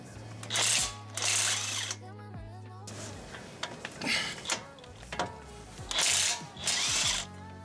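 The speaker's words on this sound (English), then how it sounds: "Next, we're going to remove these two 18mm bolts to remove the other half of the" A power tool spins off the 18mm caliper bolts on a Cadillac Escalade front brake, running in several short whirring bursts, close and loud, with a voice talking between them.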